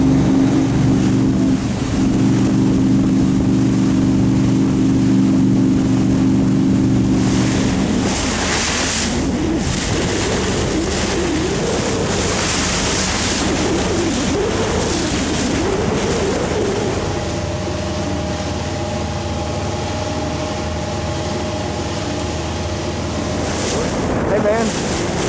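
Heard from the bow of a moving boat on open water, constant rushing wind and waves buffet the microphone, with a low engine drone underneath and muffled voices partway through.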